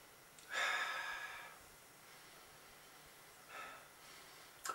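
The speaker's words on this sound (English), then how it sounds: "Let's sniff it." A person sniffs a milk chocolate bar up close: a long breathy inhale, then a shorter second sniff and a brief final snort, all soft against a quiet background.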